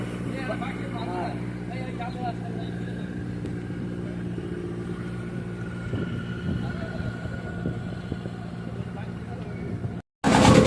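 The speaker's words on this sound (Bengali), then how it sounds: "তো আমাদের এখন ইঞ্জিন স্টার্ট দিয়ে দিয়েছে" A boat engine runs in the Sundarbans in West Bengal, a low steady droning hum continuing under people talking, with a brief dropout near the end.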